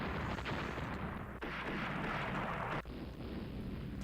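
Naval guns opening fire on an armored cruiser in the Ruling the Waves strategy game, heard as a continuous dull, rumbling barrage broken by two sharp shifts, fairly quiet and without talk.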